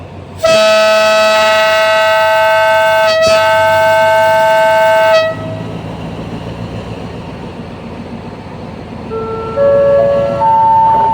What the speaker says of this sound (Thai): ขณะนี้ทางสถานีให้สัญญาณปล่อยรถ